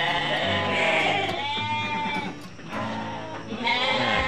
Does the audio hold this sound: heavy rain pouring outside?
no